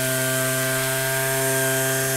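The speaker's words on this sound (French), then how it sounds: "Quand je branche l'aspirateur dessus, l'aspirateur fait plus de bruit que la ponceuse en elle-même." Virutex sander running steadily with a shop vacuum attached, the vacuum's loud continuous whine with strong tonal hum dominating the motor noise throughout, close and constant with no talk.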